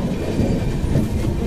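Saket Express passenger train running on rails through Kasara Ghat, a dense, loud rumble of wheels and carriages with steady clickety-clack, heard up close from the open door and with no voices.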